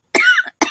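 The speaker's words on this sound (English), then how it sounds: "I don't usually cough into my hands." A woman coughs hard twice into her hands, close and loud, with a short gap between the raspy bursts.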